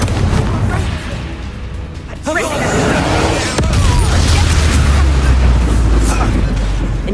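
Incendio fire spell blasts in Hogwarts Legacy battle, with loud bursts and roaring booms layered under shouted spell-casting voices and continuous combat noise.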